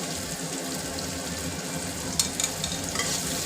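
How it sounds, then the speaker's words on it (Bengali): Tomatoes and onions stir-fried together for mutton curry, an even close sizzle running throughout with a couple of brief scrapes of the spatula near the end, no speech. "আবার আমি সমস্তটা একসঙ্গে ভালো করে নেড়ে চেড়ে ভেজে নেব"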